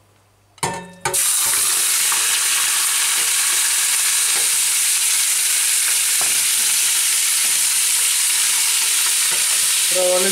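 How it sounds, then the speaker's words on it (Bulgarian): Pork pieces hit hot oil in a preheated pot with a short clatter, then a loud, even sizzle of frying meat continues close by, with a few faint stirring knocks. "Трябва леко да го запържим."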